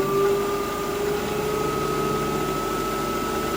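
Wood lathe spinning a cherry plum bowl blank at 1500 RPM gives off a steady, even motor hum with a constant tonal whine, close and unbroken and free of speech.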